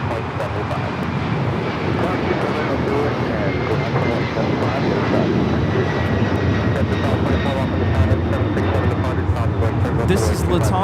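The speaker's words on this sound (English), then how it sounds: "This is LATAM Airlines 2479 taking off to Lima, Peru on the 767 300ER." A LATAM Airlines Boeing 767-300ER, flight 2479, takes off from Los Angeles LAX for Lima, Peru; a loud, sustained jet engine roar with a faint whining tone, holding steady and building slightly, while radio chatter is heard faintly.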